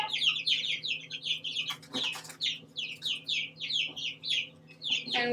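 Grown-up backyard chickens cluck and chirp in rapid, overlapping bursts close by, with a steady low hum underneath and a brief thump partway through; no one talks.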